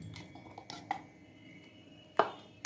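A spoon scoops dosa batter into another bowl, giving a few soft scrapes and light clinks against the bowl, with two sharper knocks near the end, quiet and close.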